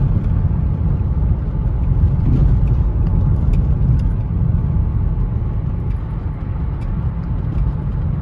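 A Toyota Camry with a 2.4 liter four-cylinder engine and about 250,000 miles drives along, giving a steady low engine hum and road rumble heard from inside the cabin, with no talking.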